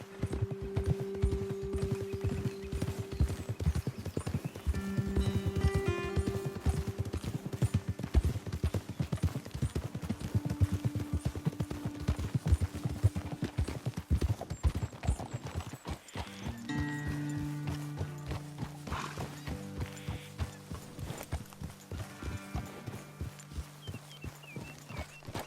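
Horses walking at an even pace in Red Dead Redemption 2, hooves clip-clopping steadily throughout, with an occasional whinny and a musical score underneath.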